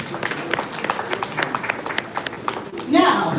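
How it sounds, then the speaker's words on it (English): Audience applause at a Rotary District 9112 public image seminar, scattered claps in an uneven patter that swell into fuller clapping near the end, with a voice talking over it. "A round of applause, please."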